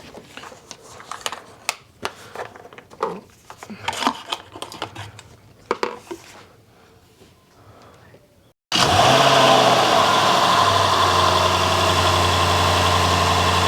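A supercharged Jaguar XJL engine starts idling partway through after scattered close workshop clatter, then holds a loud, steady, even hum to the end.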